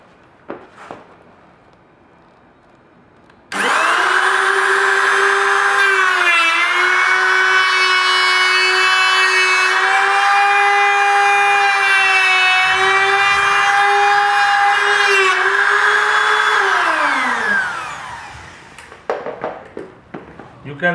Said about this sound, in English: This is the bevel type slot cutting machine.